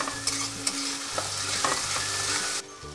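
Ginger-garlic paste frying with onions for white pulao, a steady close sizzle with clinks and scrapes of a spatula stirring the pan, fairly loud throughout.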